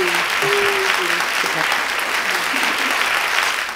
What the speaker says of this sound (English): Insert applaud here.